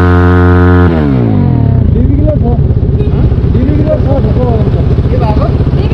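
A Royal Enfield Bullet with its silencer mesh removed gives a steady horn-like tone, then a loud, rapid, thumping exhaust beat that runs close and continuous, with voices nearby.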